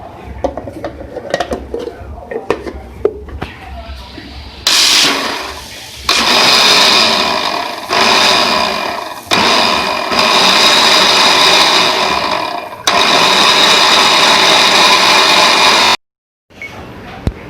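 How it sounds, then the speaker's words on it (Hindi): A blender whirs loudly in repeated bursts of several seconds each, blending watermelon juice with sugar and black salt, with brief pauses between runs and clinking of dishes before it starts. "इसके साथ काला नमक और इसको हम कर लेंगे ब्लेंड"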